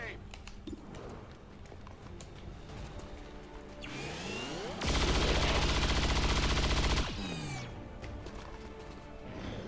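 XCOM 2 gunfire during a turn-based firefight, with a dense, loud burst of shots in the middle that is flanked by rising and falling game effects, and clicks and ambience before and after.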